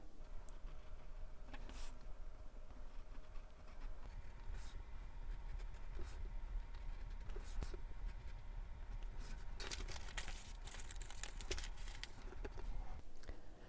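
A craft knife cuts zigzag lines through paper while the sheet is shifted around, giving close, continuous scratchy scraping with small clicks and rustles throughout, and no talking.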